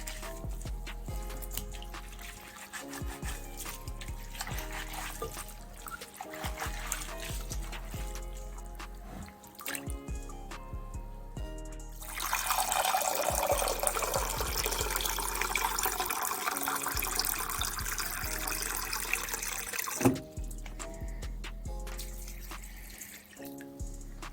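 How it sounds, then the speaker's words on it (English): Running water splashes steadily into a sink as sea moss is washed, growing louder and fuller midway as the flow increases, with faint handling noises and no talk. "Keep washing it until the water gets very clear. You wash it and then you rinse it."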